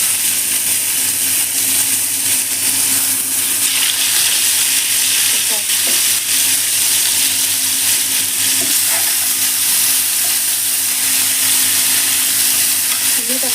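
Tandoori chicken pieces fry in hot oil, giving a loud, steady, close sizzle that carries on for the whole stretch, with a few faint scrapes and bubbles mixed in.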